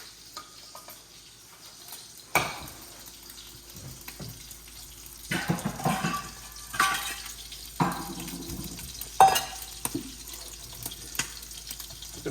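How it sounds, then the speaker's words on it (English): Water is poured off spaghetti and sausages in a pan on a trail, with intermittent splashes, clanks and sloshing bursts against a quiet background. "I'm gonna go ahead and drain the water off of this"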